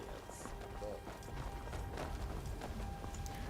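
Horse hooves clip-clop in the Skyrim video game, a steady mid-level patter of footfalls running for a few seconds under ambient game sound, with no talking.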